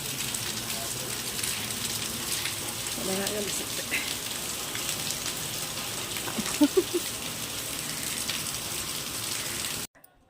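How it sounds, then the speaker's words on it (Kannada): Steady rain falls outdoors as a broad, constant wash of patter, fairly close and continuous, while a person speaks briefly over it before the sound cuts off abruptly near the end. "ಹಾಗೇನೆ ನಮಗೆ ಇಲ್ಲಿ ಸ್ವಲ್ಪ ಮಳೆ ಬರ್ತಾ ಇದೆ"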